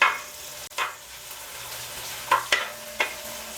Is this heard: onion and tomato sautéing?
yes